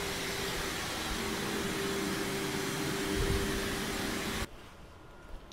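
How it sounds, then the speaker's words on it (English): A hair dryer and an air fryer powered from a Tesla Cybertruck's outlets run together as a loud, steady whooshing roar with a faint electric hum, then shut off abruptly, leaving a quieter background. "looks like the air fryer and the hair dryer have turned back on"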